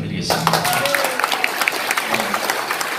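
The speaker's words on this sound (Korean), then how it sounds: "지만한 박사님하고 우리 선상윤 회장에 다시 한 박수를 부탁드립니다." Audience clapping at a symposium fills the room steadily, a dense patter of many hands with some crowd noise and a voice over it.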